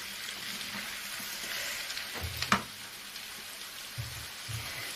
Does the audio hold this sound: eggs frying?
yes